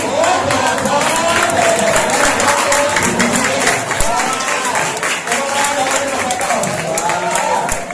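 Audience applause at a Surabaya religious study gathering with a magic-trick performance, dense and steady for several seconds, with voices and cheers mixed into the clapping throughout.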